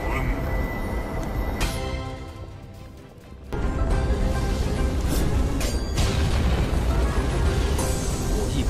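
Fiery explosions clash in an animated donghua battle against a flaming meteor: dense booming bursts and crashing impacts, dropping briefly to a quieter rumble before a loud, sustained barrage resumes under a narrating voice.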